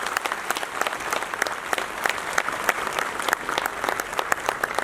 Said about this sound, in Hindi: मुख्यमंत्री को जोरदार तालियां बजा करके स्वागत कर दें